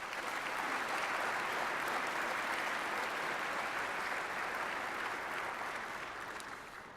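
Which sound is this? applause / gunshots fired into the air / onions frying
applause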